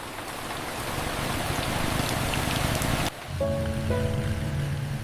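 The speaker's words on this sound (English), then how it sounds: "Rain sounded different depending on what kind of roof was above you." Evening rain falling in an old Saigon alley, a steady dense patter on surfaces that shifts abruptly partway through to a different drumming texture with faint tonal sounds behind it, no talk.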